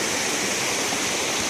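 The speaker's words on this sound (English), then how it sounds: "And there's the river here." River water flowing steadily in Black Creek in a conservation area near old lime kilns and waterfalls, a constant broadband rush heard close and alone without pauses.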